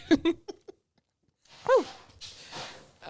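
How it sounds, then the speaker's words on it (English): A female dog barks indoors in a few short, sharp yips near the start, then a louder bark follows after a pause, with faint breathy sounds and movement around it. "She's been barking all day."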